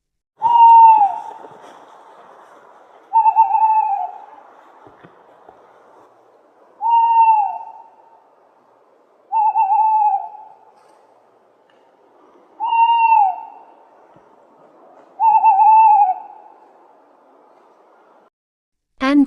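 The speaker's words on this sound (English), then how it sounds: "Now, hear the owl." An owl hoots six times, each a full, mellow two-part call spaced a few seconds apart against a quiet background, clear and fairly close, with a brief sound at the very end.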